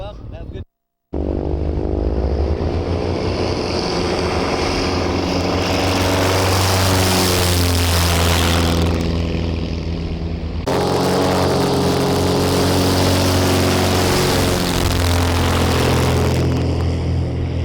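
Propeller airplanes drone loudly at a fly-in, with a steady engine roar that swells and shifts in pitch as they pass close by and people talk nearby.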